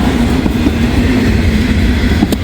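A freight train of loaded grain cars and auto racks rolls past close by, a loud steady rumble with rhythmic wheel clicks and metallic squeals.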